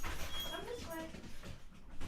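Dogs whimper and yip softly indoors as they are herded outside, with a person talking over them throughout.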